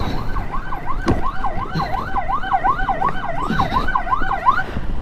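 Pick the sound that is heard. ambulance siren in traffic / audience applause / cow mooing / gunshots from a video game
ambulance siren in traffic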